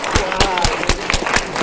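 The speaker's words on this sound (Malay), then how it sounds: "Tepuk tangan." Audience applause at a motivational course, a dense run of claps heard close and fairly loud, with a few sharper individual claps standing out.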